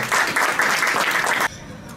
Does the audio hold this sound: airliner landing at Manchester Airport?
no